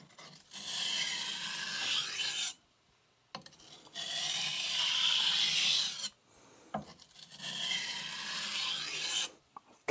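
Aogami 2 steel Bunka knife blade being thinned on a Shapton Glass 220 whetstone: three long bursts of rough, rasping stone-on-steel grinding, separated by short pauses, close and fairly loud.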